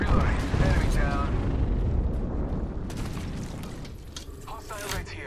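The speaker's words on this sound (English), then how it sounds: "Signaling an airstrike." Airstrike explosions in the video game Apex Legends, a dense run of heavy booms and blasts rumbling over several seconds, with bursts of gunfire and crackling pops layered in.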